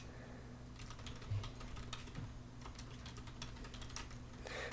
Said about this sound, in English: Don't mind the typing.